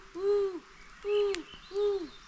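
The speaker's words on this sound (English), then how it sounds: "playing owl calls" An owl call played back repeats three times at an even, unhurried pace: clear, tonal hoots that slide downward at the end, each standing alone against a quiet night background.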